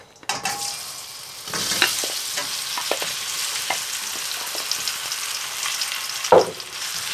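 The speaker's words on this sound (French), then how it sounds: "on va en mettre une belle lampée dans notre wok, comme ça, et on va faire revenir nos aubergines" Aubergines stir-fried in oil in a wok over high heat give a loud continuous sizzle, broken by scraping stirs and a sharp clatter near the end.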